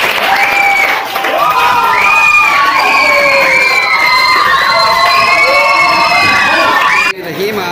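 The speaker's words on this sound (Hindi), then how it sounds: "तालियां तो दिया भाई" Children at a school Teachers Day event in Hyderabad cheer, shout and clap together, a loud, dense crowd roar that holds steady for about seven seconds before cutting off abruptly.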